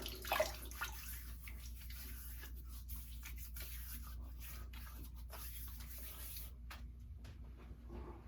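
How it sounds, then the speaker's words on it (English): Running water from a tap splashes steadily as a head is wetted before a wet shave, a continuous close hiss with a few small knocks near the start. "let me get the head wet"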